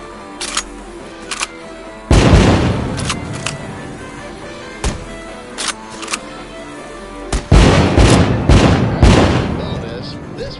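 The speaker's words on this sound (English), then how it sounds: "Light up those fireworks" Fireworks going off in a video game, a run of sharp booms and crackling bursts in two dense clusters with scattered single pops between, loud and close.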